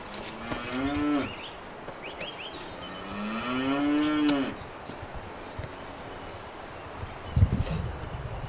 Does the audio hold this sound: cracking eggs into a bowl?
no